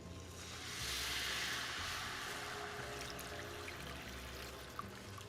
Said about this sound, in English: that's a sign that you need to add your water or your chicken bouillon blend